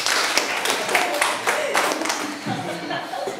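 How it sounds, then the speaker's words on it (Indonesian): Scattered hand clapping from a classroom of students, a short irregular burst of claps at moderate volume that tapers off near the end. "tepuk tangan."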